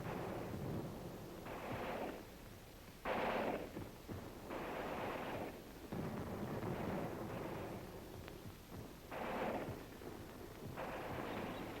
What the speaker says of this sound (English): Supporting fires lifted and shifted on call from the company commanders.